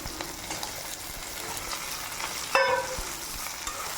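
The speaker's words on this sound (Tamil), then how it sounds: "இப்போ இந்த ஸ்டேஜில் இந்த கத்திரிக்காய் எடுத்து போடுங்க." Brinjal pieces dropped into hot oil in a kadai after garlic, giving a steady sizzle with light stirring scrapes and a brief louder burst of crackle midway.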